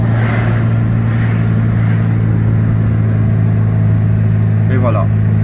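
Ligier JS50L microcar with a dCi diesel engine, 2017 model, pulling away and accelerating on a road, a steady loud mid-pitched engine drone heard from inside the cabin throughout, with a brief voice near the end.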